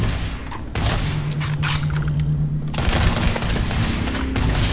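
Heavy automatic gunfire from the sci-fi game Starfield, loud sustained bursts of rapid shots with booming impacts, a short lull in the middle before firing resumes, no voices.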